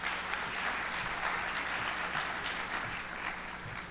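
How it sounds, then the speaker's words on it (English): A high school graduation audience at Paseo Academy in 2014 gives a dense, continuous round of applause that stays loud and even throughout, with no speech over it. "so give yourselves a round of applause as well."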